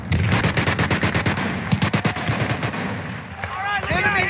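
Machine gun fire in Battlefield 3: rapid sustained bursts of automatic gunfire, loud and close, with a brief pause before more shots and a whistling tail near the end.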